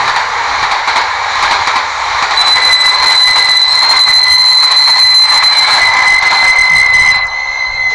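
Train running through a horror video game, a steady loud rumbling drone with high whining tones held across most of the stretch, cutting off sharply near the end; no talk.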